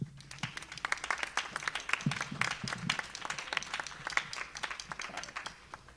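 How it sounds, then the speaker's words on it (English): A school concert audience claps for parents, the sound made of many distinct, uneven individual claps at close to middle distance, with faint low murmurs mixed in. "Kids, clap it up for your parents."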